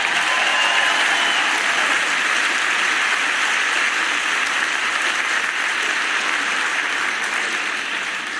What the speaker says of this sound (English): You all give Susan a big round of applause.